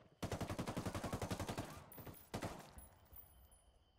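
A rapid, even burst of machine gun fire from a video game rings out close and loud for about a second and a half, then a short pause and one more sharp report, fading into quiet.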